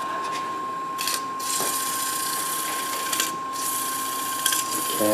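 Wood is sanded on a spinning lathe at slow speed: a constant motor whine with a steady hum and brief scratchy rasps of sandpaper against the turning piece, heard close.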